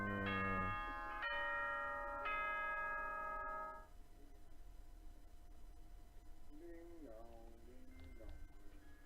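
A two-tone school announcement chime from the video game Danganronpa rings out as a pair of sustained bell-like tones, followed by a quieter stretch where a voice speaks.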